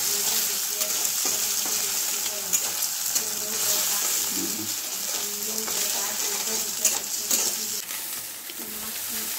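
An egg sizzles and spits steadily in a hot pan, a continuous crackling fry with occasional stirring scrapes.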